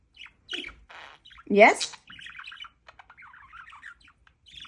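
Pet birds indoors give scattered chirps and one loud squawk, close and clear, while a person talks back to them in short bursts.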